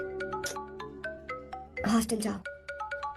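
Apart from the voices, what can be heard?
phone ringtone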